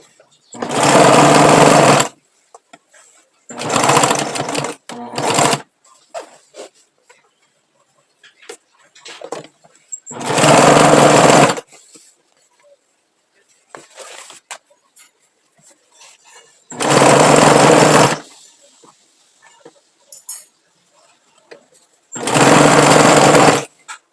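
A sewing machine stitches a patchwork rug in loud, close bursts of rapid whirring separated by pauses, with faint handling sounds between runs and a short backstitch at the end.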